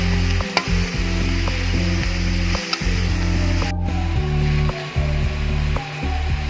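Kurdu leafy greens being stir-fried in a pan, a steady dense sizzle running throughout with occasional scraping stirs of a spatula and a few brief gaps.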